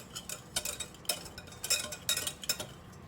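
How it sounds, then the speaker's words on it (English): Dry baking ingredients, including baking soda and baking powder, whisked in a bowl: a quick series of light clinking, tapping strokes in uneven bursts, close and fairly soft, with no talking. "Put all our dry ingredients in there and then whisk it up really good."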